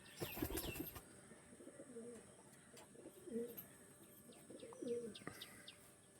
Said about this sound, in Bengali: একদম ডিপ বেগুনি পাঞ্জার পায়রা